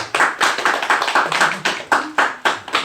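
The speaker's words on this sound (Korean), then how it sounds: "박수." A church congregation applauding at a New Year's Sunday service, a short burst of brisk, rhythmic group clapping heard close and loud for a few seconds.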